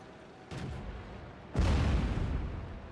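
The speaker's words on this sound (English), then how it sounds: "Second artillery shell narrowly misses his tank" Artillery shells landing near a tank in the World of Tanks game: a soft distant thump followed a second later by a louder, closer boom with a rumbling tail.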